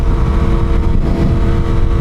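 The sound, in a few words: Yamaha R1 motorcycle engine while riding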